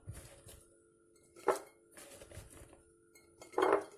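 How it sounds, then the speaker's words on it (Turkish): Hot peppers and garlic being packed into a glass jar for pickling, heard as a few scattered clinks and knocks of glass and utensils, separated by quiet pauses, with a louder clatter at the end. "burada kavanozumun içerisine dolduruyorum"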